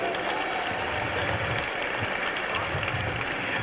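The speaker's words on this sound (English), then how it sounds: "can I have a round of applause, a big round of applause" Sustained audience applause at an evening charity fashion event in a shopping mall, a steady, fairly distant wash of clapping with crowd noise mixed in and no clear gaps.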